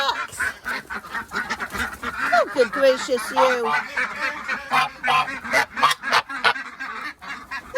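Ducks quack and honk repeatedly at close range in their bedded pen on a morning visit, busy overlapping calls with a person speaking briefly over them.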